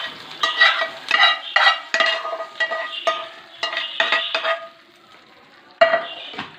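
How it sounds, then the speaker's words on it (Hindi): Hot tadka tempering poured over chillies for a green and red chilli chutney, giving loud crackling sizzle bursts that rise and fade repeatedly, with stirring and utensil clinks between them, and no voices. "ये डायरेक्ट मैंने अपना तड़का जो है ये मिर्चों के ऊपर डाल देना है।"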